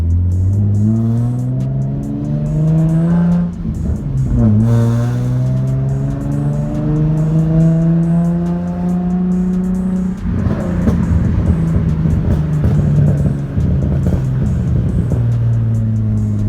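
A Nissan 350Z engine with cold air intakes revving and holding at high rpm, pitch rising and falling in long sweeps, loud and close with a raspy intake roar.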